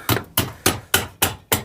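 Six sharp hammer strikes ring out at a steady pace during a Peugeot 207 MA gearbox repair, each a bright metallic clank with a short decay, close by and with no talking.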